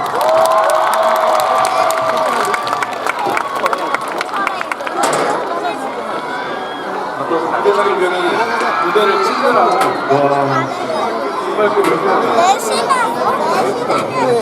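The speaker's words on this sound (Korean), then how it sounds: "큰 박수 부탁드립니다." A large crowd at the Jisanggun music festival in Korea cheers and shouts loudly and continuously, with whoops and chatter rising and falling, and a voice speaking over the din.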